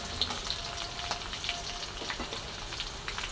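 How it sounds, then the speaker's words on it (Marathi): Green chilies and garlic sauté in a hot pan for a methi bhaji, giving a soft, steady sizzle with light crackling pops throughout. "थोडासा लसूण आणि छान असं परतून घेणार आहे बघा मिरची आणि लसूण"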